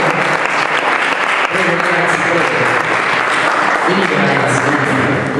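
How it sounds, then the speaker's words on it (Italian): A student audience at a school assembly in Nardò applauds steadily for a Holocaust survivor, with dense, continuous clapping filling the hall from start to finish. "va un applauso in questo momento"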